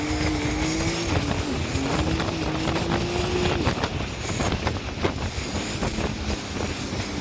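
A jet ski skims across the sea off Puerto Rico, its engine droning steadily with a shifting tone under heavy wind rush and water spray, loud and close for the whole stretch.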